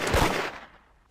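A short burst of gunfire in the mobile game Da Hood, a loud crack-like blast that quickly decays, followed by a faint second pop near the end.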